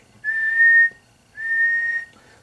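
Whistling into a microphone feeding a 50-watt D+A HDX-50 (Hornet) linear amplifier under test: two steady, clear whistled tones about half a second each, separated by a short pause, with no talking.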